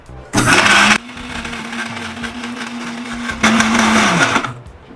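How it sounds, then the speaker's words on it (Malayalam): A mixer grinder blending an oats and yogurt shake whirs loudly in two short bursts, with a lower steady motor hum running between them. "ഇതെല്ലാം കൂടെ മിക്സിയിലിട്ട് ഒരു അടി അടിക്കാം"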